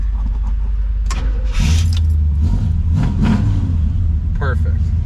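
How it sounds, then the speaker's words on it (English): A car engine cold-starts and revs up, a steady low rumble filling the background while a person talks over it. "Cold start."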